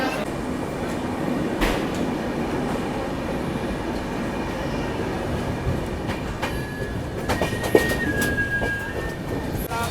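Passenger train at Surat station, steady rolling rumble with faint wheel clatter and a brief squeal near the end, station crowd noise and voices in the background.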